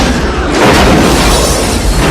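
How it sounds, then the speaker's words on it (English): A booby-trapped bomb goes off in a film scene, giving a loud, sudden boom that spreads into a broad roaring blast and rumble for about two seconds, with no voices. "A massive explosion follows"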